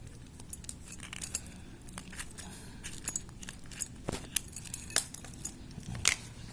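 Small plastic clicks and light metallic jangles from a Daihatsu Ayla 2013 car key remote as its casing is pried open, close and quiet, in scattered bursts over a low room hum.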